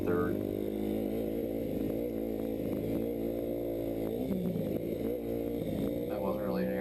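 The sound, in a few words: Yamaha YZ250F motocross bike engine on track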